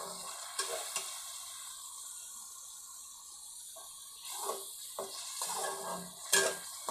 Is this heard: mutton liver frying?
yes